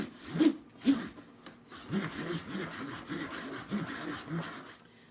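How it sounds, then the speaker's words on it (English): Hands scrape over a surface, switching between jagged and swirling strokes during a children's jazz workshop. The result is a soft, rhythmic rasping with repeated rubbing pulses, fairly quiet and alone. "And it sounds really cool if you go between jaggy scraping and swirly scraping."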